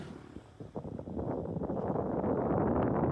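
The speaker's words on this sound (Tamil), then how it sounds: "காற்று உசுர அடிச்சுனே இருக்குது." Strong wind roars around an onion-laden lorry on the road from Nagar to Madurai, a dense, steady rushing noise that builds after the first second and stays loud with no one talking.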